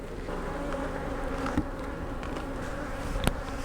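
Honey bees in a hive with honey supers hum in a faint continuous drone, with a couple of brief knocks near the hive and no voices.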